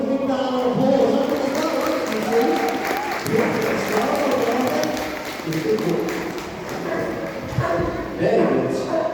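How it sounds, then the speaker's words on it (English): A crowd at a California sea lion show at Knowsley Safari Park claps loudly in sustained applause, while a presenter talks and sea lions bark over it. "give them a big round of applause."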